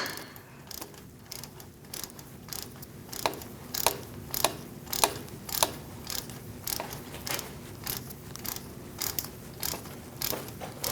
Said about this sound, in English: Using a 10mm socket, I'm going to remove this bolt